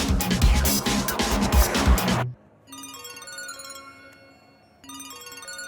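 A loud roaring engine cuts off abruptly, then an electronic phone ringtone melody plays, pauses briefly, and starts again.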